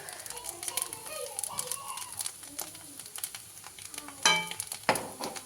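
Leftover rice frying with ground pepper, sugar and roasted spice powder in a pan, stirred with scraping strokes over a steady sizzle, louder scrapes near the end, with a voice talking alongside.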